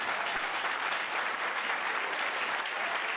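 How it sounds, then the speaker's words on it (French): A church congregation claps steadily in a dense, continuous wash of applause that holds at an even level throughout, with no speech over it. "applaudissez le Seigneur pour moi"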